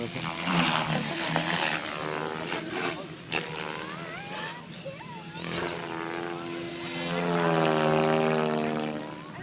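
Airplanes at an air show roar overhead, one engine drone rising and falling in pitch as it passes, while spectators nearby talk excitedly throughout.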